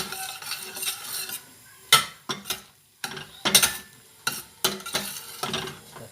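A spoon stirs a pot of okra (gombo) stew in short repeated scraping strokes, close and fairly loud, with a soft sizzle underneath and no voices.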